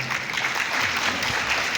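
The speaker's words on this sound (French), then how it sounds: "Mesdames et messieurs, sous vos applaudissements, s'il vous plaît." Audience applause greets a performing team, the Team Choc from Paris, at an event at the Radisson Blu in Senegal: steady, dense clapping fills the whole stretch at an even level.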